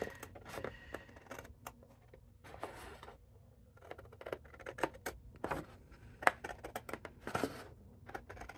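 Big scissors cut along the line of a card template in a quiet room, giving a series of short, crisp snips and paper rustles spread irregularly, some louder and close.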